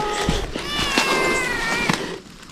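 A cat meows close by in a long, drawn-out, slightly whiny cry with a couple of short clicks, lasting a couple of seconds.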